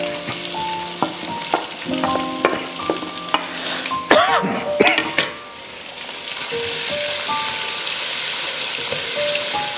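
Large sliced onions frying in a pan for a Kerala chena cherupayar thoran: a close, steady sizzle, with light tonal background music and some clattering stirring early on, then a smooth, continuous hiss.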